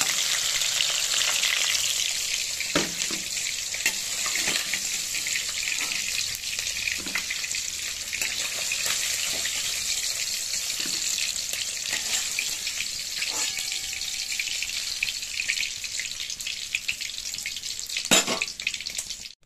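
Katla fish frying in hot oil, a steady bright sizzle and crackle with occasional clinks and light scraping from a utensil, running close and continuous throughout with no voices.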